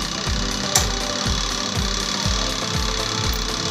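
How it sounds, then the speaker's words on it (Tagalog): A faulty washing machine motor hums without spinning, a steady close drone with a regular low thumping pulse beneath it. "meron tayo ditong washing machine na umuugong lang, hindi siya umaandar"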